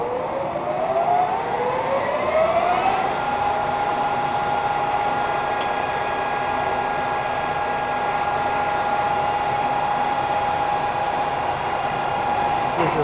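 A JET 26 x 80 inch metal lathe motor starts up running counterclockwise, whining upward in pitch for a few seconds before settling into a steady, loud electric hum with a broadband mechanical drone beneath.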